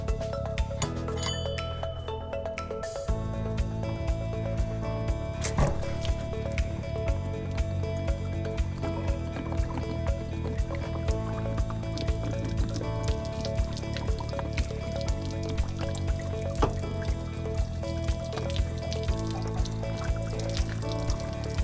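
Water drains from an RV water heater tank with the plug pulled, a steady gushing, trickling flow that runs on continuously after a brief clunk at the start, close and fairly loud, with no voices.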